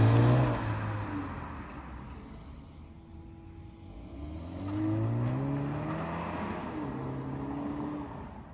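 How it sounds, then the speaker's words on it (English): A car pulls hard away from a car park, its engine note climbing in rising sweeps as it accelerates, fairly close and with no voices. "he just kind of floored the accelerator"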